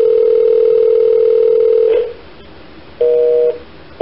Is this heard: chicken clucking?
no